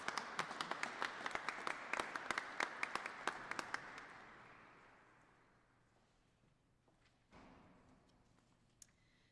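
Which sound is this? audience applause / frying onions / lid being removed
audience applause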